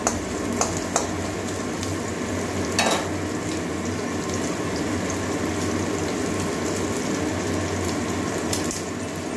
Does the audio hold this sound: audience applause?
no